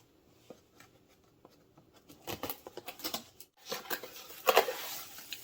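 A plastic-wrapped parcel from Temu holding glasses is torn and rustled open, starting with faint scattered ticks, then building into louder crinkling, tearing and crackling bursts up close.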